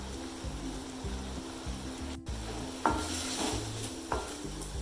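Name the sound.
stirring vallarai keerai kootu in a pan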